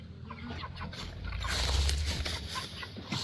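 A nearly full-grown broiler chicken clucks softly up close while being handled during a move to pasture, with rustling and handling noise underneath.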